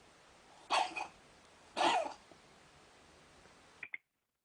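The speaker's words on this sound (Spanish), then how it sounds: "Gatos que tosen." Two short, harsh coughs a second apart, close and fairly loud, followed by a couple of faint clicks before silence.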